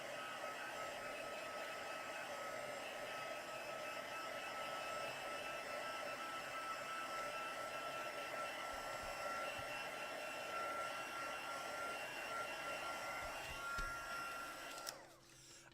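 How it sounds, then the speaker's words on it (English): A heat tool blows steadily and close by for about fifteen seconds, drying ink on a stamped craft project, then cuts off at the end. "I'm just going to use my heat tool very quickly just to dry that out"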